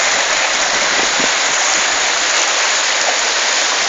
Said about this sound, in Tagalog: Waterfalls.